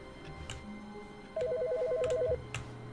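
A telephone rings in a quiet office in the video game The Stanley Parable, one short warbling electronic ring of about a second, clear over a low ambient hum with faint clicks around it.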